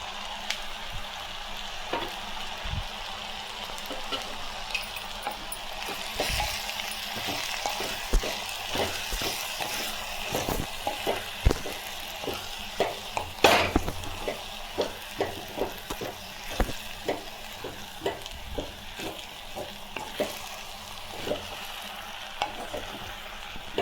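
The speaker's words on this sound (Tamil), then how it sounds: "வெங்காயம் பூண்டு நல்லா வதங்கிடுச்சு." Onion, garlic, drumstick leaves and cooked horse gram stir-fried together in a pan, with steady sizzling under repeated scraping and stirring strokes of a spatula, close and continuous.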